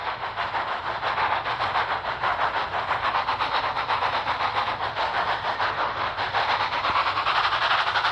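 A toy engine rolls along with a steady rhythmic clatter and hum of wheels on track as it pushes freight cars, a continuous mid-level rattle without any talking.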